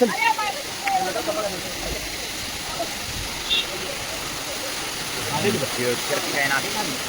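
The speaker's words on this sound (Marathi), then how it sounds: "बघू शकता कसा प्रकारे धबधब्याची मजा" Steady rushing water from a waterfall on the Raigad Fort trek fills the background like a continuous roar, with people talking over it.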